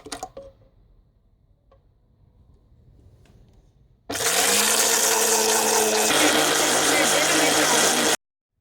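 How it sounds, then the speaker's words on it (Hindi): A loud electric beater whirs steadily in a bowl of three eggs, starting abruptly after a quiet stretch and running for about four seconds before cutting off. "ये हमारे पास 3 अंडे हैं। सबसे पहले हम इनको 4 मिनट के लिए बीट करेंगे।"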